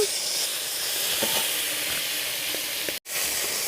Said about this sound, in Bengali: এই তেলের মধ্যেই আমি চিংড়ি মাছগুলো ভেজে নেব